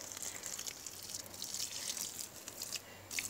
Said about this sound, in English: I'm just gonna give them a little drink of water.